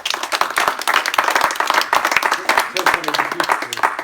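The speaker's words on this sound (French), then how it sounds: "donc on va t'applaudir Giorgio, c'est bravo." Audience clapping at a gathering of training centres in Malestroit-Ploërmel, loud and close with distinct individual claps in an uneven rhythm, while voices talk and cheer through it.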